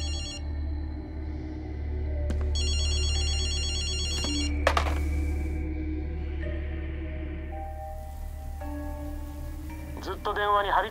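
Telephone ringing in Ghostwire Tokyo, short bursts of electronic ringing over a low game ambience hum, with other faint game sounds and a voice near the end.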